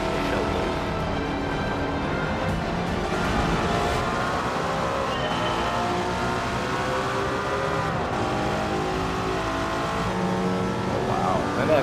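Mercedes W 196 R '55 race car engine in Gran Turismo 7, a continuous dense high-revving howl held at full throttle throughout, steady and loud with no clear gaps.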